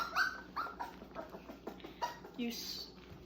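A hungry puppy being bottle fed whimpers and yips in short, high-pitched squeaks, close by and fairly quiet, with faint rustling between the cries.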